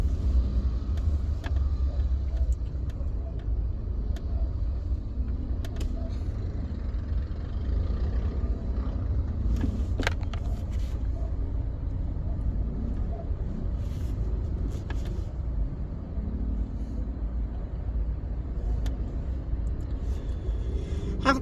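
Heavy road traffic in the Philippines rumbles continuously, with car engines idling and creeping along nearby at a steady moderate level and occasional faint clicks and knocks.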